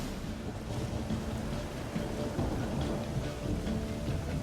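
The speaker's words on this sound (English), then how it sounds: "Storm, damn it." A rainstorm in The Witcher 3 hisses steadily and fills the whole scene, with low rumbling thunder underneath and no clear breaks.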